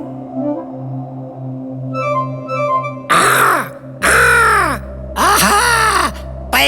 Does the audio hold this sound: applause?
no